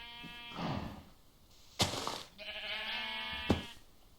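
Sheep bleating in the video game Minecraft: several separate bleats a few seconds apart, loud and close, with no talk over them.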